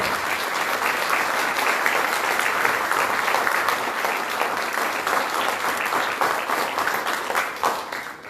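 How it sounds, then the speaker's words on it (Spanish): Steady, loud audience applause fills a formal book launch event in Peru, welcoming the author with dense continuous clapping that holds evenly throughout before tapering slightly at the end. "el distinguido maestro Iván Torres Latorre, a quien saludamos con un fuerte y caluroso aplauso."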